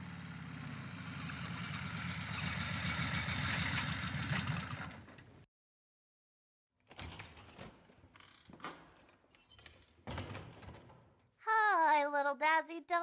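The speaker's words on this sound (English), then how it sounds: "I hear her motorbike pulling up now." A motorbike idles with a mechanical rattle for several seconds, then cuts off; after a pause come clatters and knocks, then a wavering voice-like tone.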